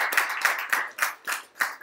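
Six distinct claps in an even rhythm, a small audience clapping briefly and fairly close at a live-streamed talk, with no voices over it.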